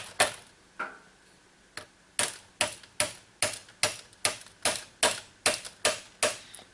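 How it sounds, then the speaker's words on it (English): A roll pin is driven out of a switchblade-style key fob held in a vise, giving a run of sharp metallic taps that speed into a regular rhythm, close and fairly quiet with no talking. "all I'm going to do is drive this roll pin down as far as it'll go."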